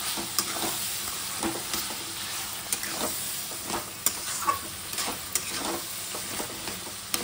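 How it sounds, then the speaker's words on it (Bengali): Hilsa fish head cooking with taro greens sizzles steadily in a pan while a spoon scrapes and stirs, leaving irregular knocks and scrapes close up, with no talking. "নেড়ে দিচ্ছি, নাহলে তলায় লেগে যাবে।"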